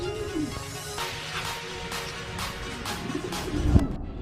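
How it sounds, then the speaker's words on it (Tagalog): Pigeons coo repeatedly from a flock of many birds close by, soft rolling calls recurring amid steady background noise. "Ang daming ibon."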